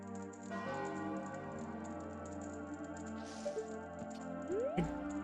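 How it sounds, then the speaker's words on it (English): Bell ring sound effect from a video game, a bright tonal chime with rising pitch near the end, heard over steady game music and soft background noise. "That's where that bell ring sound effect comes from."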